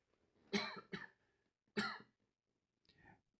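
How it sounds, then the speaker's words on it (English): Several quiet coughs into a dynamic microphone, two close together, then another, and a fainter throat-clear at the end, set against near silence. "if I need to cough for a second"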